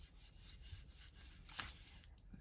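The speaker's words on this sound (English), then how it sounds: "And I'm just going to wisp it through, and I can rub it across." A damp baby wipe loaded with paint or ink rubs across paper in soft, faint, repeated scrubbing strokes, heard close with no talking.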